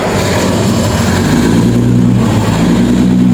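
A river ferry crossing the Tha Chin river from Tha Chalom to Mahachai revs its engine on departure, a loud, close, unbroken rumbling roar with a low throbbing hum beneath.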